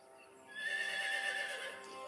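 A horse gives a single loud, drawn-out whinny that swells after a quiet start and holds for over a second before fading slightly.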